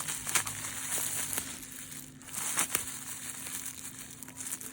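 A plastic pouch of nail dip liquid is cut open, producing close crinkling and crunching of packaging with a few sharp snips and rustles, no talking.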